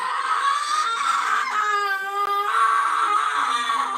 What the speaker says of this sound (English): Why are you yelling like that?